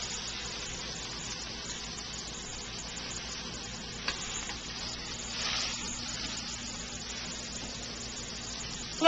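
Salmon patties frying in a pan, a soft continuous sizzle at low level with a faint spatter or two, no talk.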